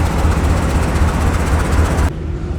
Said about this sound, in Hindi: तो ये हमारी ट्रेन का लोकोमोटिव है RGE 25115, जो कि ट्रेन को सिर्फ सक्खर से लेकर रोड़ी तक जाएगा